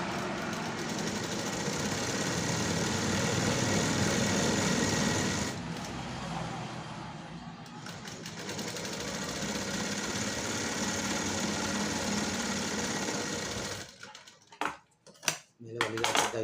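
A sewing machine stitching along a blouse sleeve hums in a steady, continuous whirr for most of the stretch, then gives way to a few scattered clicks and knocks near the end.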